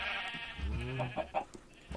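Freshly sheared sheep in Minecraft bleat in a few short wavering calls, close and clear, with quieter bleats following.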